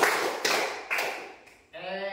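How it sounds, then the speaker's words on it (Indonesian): A few sharp hand claps ring out in a quick, even sequence in a classroom-like space, each with a short echoing tail, followed by a brief voice. "Tepuk 3 kali"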